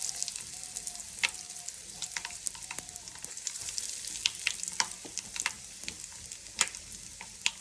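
Mustard seeds and dried red chillies sizzling in hot oil for sambar, a steady close frying hiss scattered with sharp popping crackles as the seeds burst.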